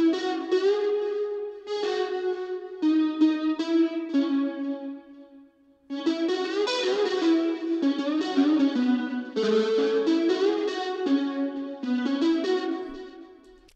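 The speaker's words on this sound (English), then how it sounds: "All those things are actually distortion terms to kind of make the guitar sound like an overdrive guitar with like distortion effects." Electric guitar chords with overdrive distortion and chorus-like effects, played in a rhythmic reggae-style pattern, steady and sustained with brief pauses between phrases.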